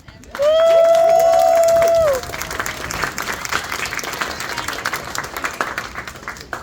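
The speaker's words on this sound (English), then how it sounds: "Let's give them a round of applause" Wedding guests applaud a newly married couple after their vows. A loud, sustained whistle-like tone opens, then steady crowd clapping with scattered cheers continues at a moderate level.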